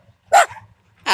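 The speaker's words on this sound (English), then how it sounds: "That is a barking watchdog." A watchdog barks twice, loud and close, with a short sharp bark followed by a second after a brief pause.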